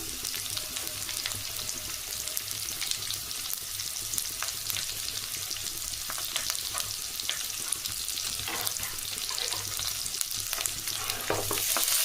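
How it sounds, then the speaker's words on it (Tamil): Chopped tomatoes fry and sizzle in a pan for drumstick sambar, with a steady hiss over twelve seconds and occasional stirring scrapes, close and fairly loud with no talk. "ரெண்டு தக்காளி கட் பண்ணி போட்டுக்கலாம்"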